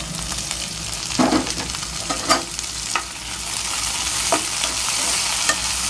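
Onion and capsicum fry lightly in a pan for a meal maker Manchurian, with a steady close sizzle and a few sharp scrapes and knocks as a spoon stirs the pieces.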